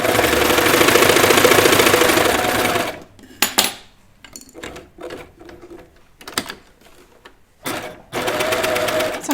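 A sewing machine stitches a knit T-shirt hem in a steady mechanical whir for about three seconds, then stops, leaving scattered handling clicks and brief bursts before the motor starts running again.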